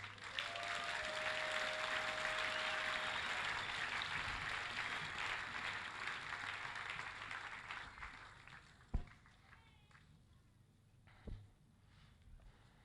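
A church congregation applauds in a sustained, dense burst of clapping that fades after about eight seconds into near quiet, broken by a couple of isolated thumps.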